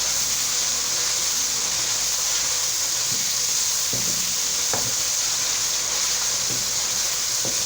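Garlic-ginger paste frying with onions makes a loud, unbroken sizzle close by. A few soft utensil knocks are scattered through the constant hiss.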